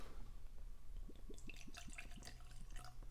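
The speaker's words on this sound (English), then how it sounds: "Let's pour it out." Bourbon from a 1974 bottle pours into a glass, a liquid trickle with rising glugging notes, close and quiet, no talk over it.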